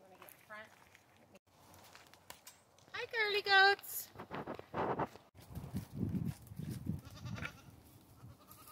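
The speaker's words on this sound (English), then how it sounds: "Goats." A goat bleats loudly and nearby on a farm, with a shorter bleat earlier, followed by people talking and scattered movement sounds.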